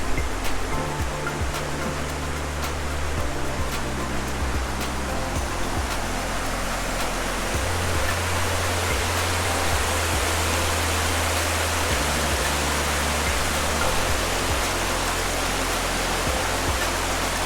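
Water rushes steadily down a reservoir overflow on a country walk near Wolsingham in County Durham, a loud continuous roar with no voices throughout.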